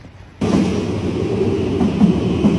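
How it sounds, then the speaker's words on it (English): A subway train in Finland rumbles steadily close by after a sudden onset, with a loud, broad and continuous roar of wheels and car noise and no talking. "God, that's the subway, y'all."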